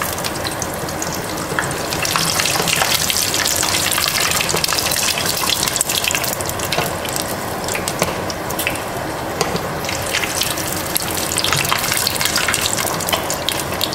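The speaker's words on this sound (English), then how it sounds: "let it fry for about 30 seconds once you do this" Haitian fried patties, pâté kòdé, sizzle loudly in hot oil, a dense, steady frying hiss that fills the whole stretch with no talking.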